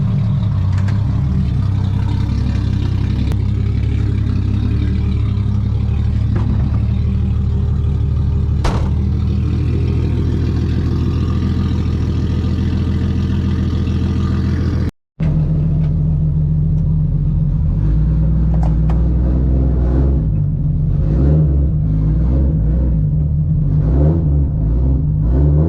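A JZ-swapped Nissan 240 rumbles loudly at close range with a deep, uneven idle, cuts out for a moment, then restarts and revs repeatedly as it begins to drive.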